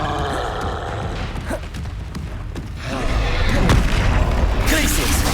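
Expelliarmus disarming spell bursts in Hogwarts Legacy played on Xbox, with several booming thuds over a busy game mix and a louder swell near the end, with speech-like vocal sounds running through.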